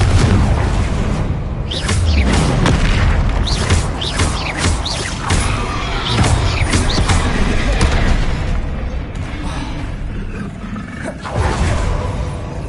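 A Confringo fire spell explodes in the Hogwarts Legacy video game, with loud booming blasts inside a dense, roaring battle soundscape that never lets up.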